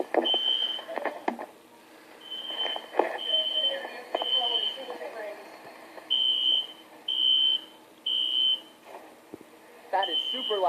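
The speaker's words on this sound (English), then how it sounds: "Did the fire alarm ever go off at a church?" A shrill, high-pitched fire alarm in a church beeps in repeated long bursts, with people talking loudly over and between the tones.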